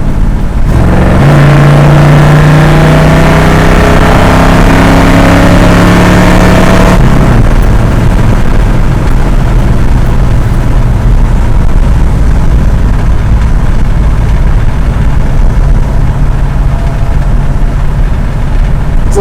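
A 1973 Dodge Dart Swinger's healthy 318 V8 with 9.2:1 pistons revs loud and close, building through a sharp climb before settling into a steady, rough, sustained roar for the rest of the run, with no talking.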